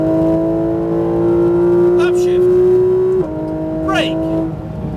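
A Porsche GT3 RS engine screams loudly under hard acceleration, its pitch climbing then dropping sharply at an upshift before rising again, while someone talks over it.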